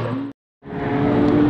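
A TVR Tuscan sports car roars past at a supercar track event, the engine note cutting out briefly and then returning loud and close as it passes.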